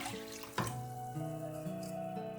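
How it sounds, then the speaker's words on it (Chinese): Clean water poured into a steamer pot, a short continuous splashing stream whose pitch rises as the pot fills, close and moderately loud with no voices. "蒸锅里面我们加入清水"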